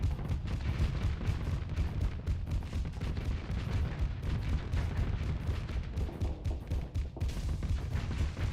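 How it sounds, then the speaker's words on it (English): Hephaestus gun firing in Starsector, a fast relentless stream of heavy thumping shots in steady rhythm, loud and continuous for the whole stretch with no talk. "The second the shields are down, that's when you fire the Hephaestus."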